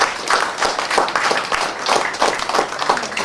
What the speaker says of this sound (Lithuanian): audringi plojimai gerbiami, labai audringi